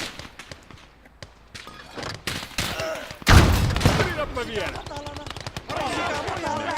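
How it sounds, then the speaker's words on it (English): Machine gun fire in a war game rattles in rapid bursts, sparse and quieter at first, then a heavy impact followed by louder sustained firing, with voices shouting over it. "Machine gun."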